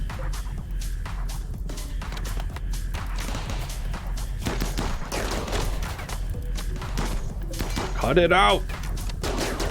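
Turret gunfire rattling in a RimWorld colony battle, a dense ongoing fusillade of shots under game noise, with a shouted voice and a brief squawking sound near the end.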